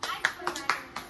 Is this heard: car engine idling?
no